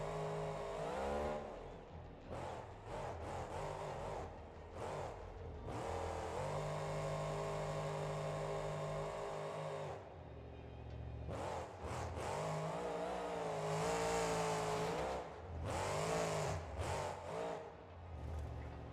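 A high-revving race car engine in the video game BeamNG.Drive roars continuously, its pitch climbing and dropping with gear shifts, loud and close, with brief rev-limiter cutouts between bursts.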